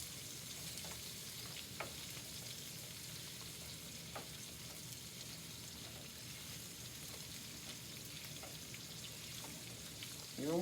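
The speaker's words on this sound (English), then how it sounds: "You just want to sear it just a little bit, just enough." Shrimp searing in a hot pan for shrimp and grits give a steady, dense sizzle and crackle that holds evenly throughout, with faint pops and no voices.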